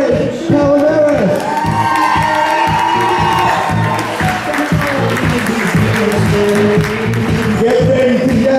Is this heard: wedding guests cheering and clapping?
yes